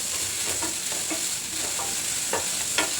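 Onion frying and being stirred in a pan for a South Indian capsicum palya, a steady close sizzle broken by several soft scraping stirs of the spatula, with no talking.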